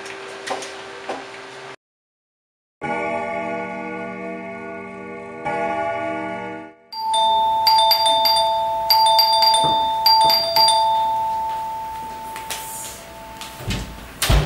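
An electronic doorbell chime rings several times in a row, with short pauses between bursts, loud and close, followed by ticking and clattering noises.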